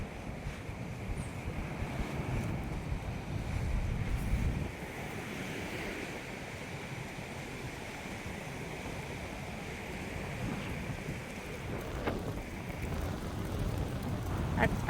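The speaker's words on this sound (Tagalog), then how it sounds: "Napaka-relaxing pakinggan ng hampas ng mga alon sa dalampasigan." Waves crash and wash on a shore in a steady, moderately faint surging roar mixed with wind noise, without any clear speech.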